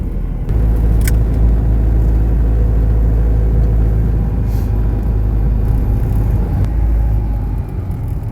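A car rolls along slowly on a tire freshly repaired with Super Tech tire sealant, giving a steady, close, low road rumble with a few faint clicks and no talking.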